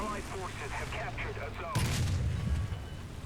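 A Valentine Mk.XI tank gun fires once in War Thunder, a single heavy boom that breaks in after a stretch of talking and rumbles on briefly.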